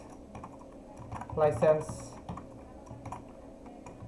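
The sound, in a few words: typing on a computer keyboard in Remix IDE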